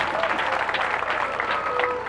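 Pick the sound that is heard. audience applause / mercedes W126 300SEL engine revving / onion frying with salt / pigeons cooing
audience applause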